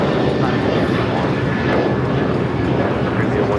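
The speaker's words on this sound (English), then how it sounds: "This is Alaska Airlines 284 taking off to Newark on the 737-800" Jet airliner noise from an Alaska Airlines Boeing 737-800 taking off at Los Angeles International Airport, a steady, loud broadband roar that holds throughout, with talk over it.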